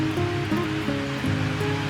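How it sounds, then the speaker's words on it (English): Water pours down outdoors with a steady, close rushing hiss that never lets up, while a faint tonal hum runs underneath. "Look at the water coming down."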